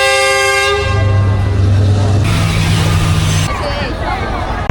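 A loud train horn blares in a long sustained blast as the train approaches a market in rural Yunnan, China, shifting tone partway through, with background noise and a voice nearby.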